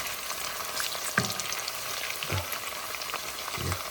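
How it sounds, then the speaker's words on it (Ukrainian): Ukrainian salo, cured pork fat, fries in a pan at a country house with a steady, close crackling sizzle and a few soft clinks and scrapes, with no one talking. "поки сало жариться"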